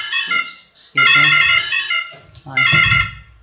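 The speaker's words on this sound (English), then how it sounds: "It's my loud and aggressive alarm." Loud, aggressive phone alarm ringing in bright, harsh tonal bursts, three blasts of rising length separated by short gaps, close and piercing.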